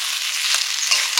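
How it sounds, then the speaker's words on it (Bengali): Fried yam pieces cook with spices in a hot pan, giving a steady, bright sizzle close up, with light stirring scrapes and crackles over it. "ভেজে রাখা ওল, দিয়ে মশলার সঙ্গে আর একটু কষে নেব"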